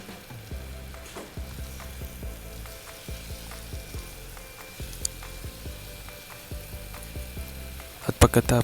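Salmon pieces frying in a covered pan, a steady sizzle and crackle with rhythmic clinks of a utensil, ending in a burst of sharper clatter.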